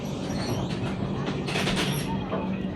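Interior of a moving Indian passenger train on the Kolkata to Agra route, a steady rumbling carriage drone with rattling, continuous and fairly loud, faint voices mixed in.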